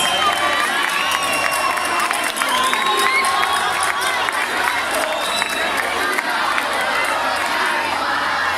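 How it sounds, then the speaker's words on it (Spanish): A crowd cheers, shouts and applauds at a town festival bonfire in Tudela de Duero, Spain. The noise is dense and steady throughout, with whistles and excited voices rising over it. "Un fuerte aplauso para ellas."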